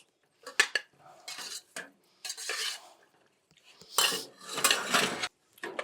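Pasta is stirred and tossed in a pan with sauce, giving close, irregular bursts of utensil clatter and scraping against the pan with brief pauses, plus a light sizzle.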